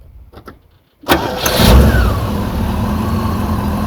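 A Rover SD1's engine cranks briefly after a few quiet clicks, catches and fires up loudly, then settles into a steady, close running idle with a faint whine over it.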